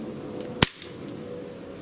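A single sharp crack from a full-metal Sig Sauer P229 6mm blowback airsoft pistol, loud and close, with the slide's quick mechanical snap just after over a steady room hum.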